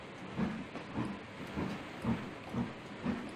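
Brakes releasing on an LMS Coronation Class steam engine in the Trainz game, a soft hiss of air under steady rhythmic rail clatter, with regular beats about every half second and no voices.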